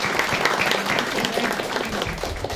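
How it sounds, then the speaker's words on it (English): A round of applause from attendees at a board workshop meeting, dense steady clapping sustained throughout without a break. "I'd like to give them a round of applause for their commitment"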